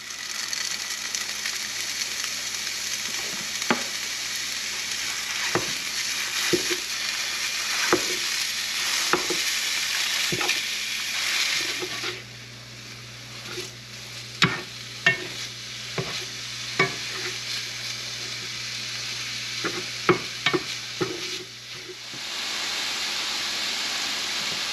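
A pound of bulk sausage fries in a pan with a steady, loud sizzle and hiss, broken by scattered scraping stirs and a brief quieter stretch midway before the frying roar returns.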